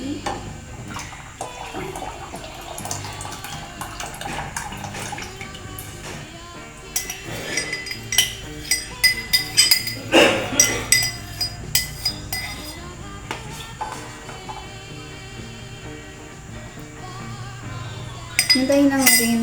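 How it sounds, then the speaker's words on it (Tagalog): Gelatin mixture being stirred in a pot as it boils, with a spoon clinking and scraping against the pot in a run of rhythmic knocks amid bubbling and kitchen clatter. "So yan, haluin natin. Haluin natin ng maigi."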